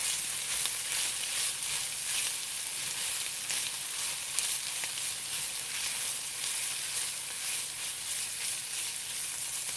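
Chanterelle, porcini and Amanita muscaria mushrooms frying in a pan while being stirred, giving a loud, close, continuous sizzle with small scraping textures throughout and no talking.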